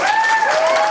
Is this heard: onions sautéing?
no